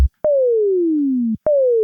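Two sine-wave tones from an Ableton Operator FM synth, each a long, clean pure tone that glides steadily downward in pitch after a sharp click onset, the second cut short, heard alone with no voices.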